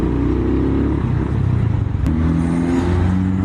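A Suzuki Thunder 125 motorcycle fitted with a power pipe exhaust idles and revs steadily nearby, its loud engine drone holding a constant pitch that shifts once partway through, with no voices.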